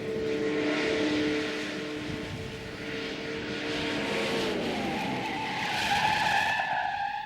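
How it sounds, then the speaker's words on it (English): An old muscle car brakes hard from 60 mph, its tires skidding in a long, loud, wavering squeal that shifts in pitch over several seconds beneath a steady engine drone. "60 miles an hour is pretty fast in one of these old cars to just be slamming on the brakes"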